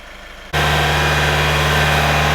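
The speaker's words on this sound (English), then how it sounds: "We're going to go back and increase the engine RPM to 1500 RPM" A truck engine is revved up to 1500 RPM during a DPF cleaning procedure, first a quieter idle, then a sudden jump to a loud, steady, droning engine with a strong low hum.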